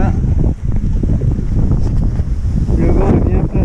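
Strong wind buffets the microphone in a steady, roaring rush with gusty dips, no other clear sounds standing out, on a hilltop trail above the Orne river in Suisse Normande, Normandy.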